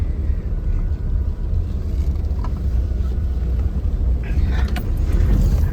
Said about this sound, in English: We're just driving down the neighbour's place here.